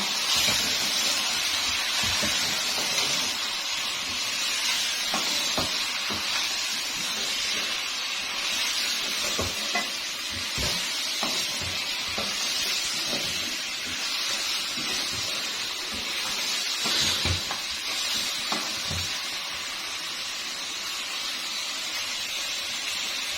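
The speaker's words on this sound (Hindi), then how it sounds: "चिकन को हम मिक्स कर लेंगे, इसमें 2-3 मिनट पका लेंगे" Green chicken karahi with washed chicken pieces being mixed and cooked in a pan, a steady loud hiss of sizzling and steam running throughout with scattered clinks and scrapes of stirring.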